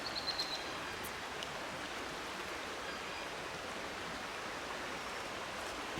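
A creek about two miles upstream flows over shallow shoals, giving a soft, even broadband rush that stays constant throughout, fairly quiet and distant, with no talking.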